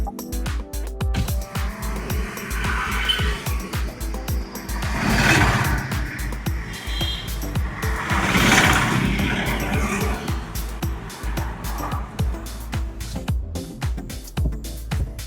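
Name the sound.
road and engine noise inside a new Maruti Dzire with windows open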